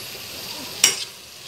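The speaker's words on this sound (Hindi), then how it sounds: "इसको अच्छी तरीके से प्याज के साथ मिला देंगे।" Shredded cabbage and onions with turmeric and salt frying in a pan, a low steady sizzle with one brief scrape of a spoon stirring.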